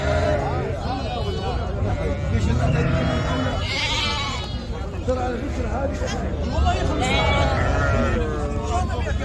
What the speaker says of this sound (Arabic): هذا الحمدانيات؟ حمدانيات ما شاء الله. فطايم خرفان.